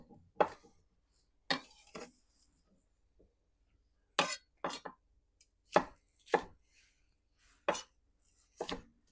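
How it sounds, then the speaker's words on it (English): A knife chops onion, celery and green pepper on a cutting board for gumbo, in irregular bursts of sharp, close taps: single strokes and quick clusters of two or three, with short silences between and no talking. "now we're just going to cut this approximately the same size, half to 3/4 of an inch"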